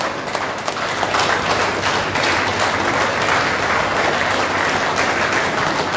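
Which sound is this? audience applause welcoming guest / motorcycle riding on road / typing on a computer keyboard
audience applause welcoming guest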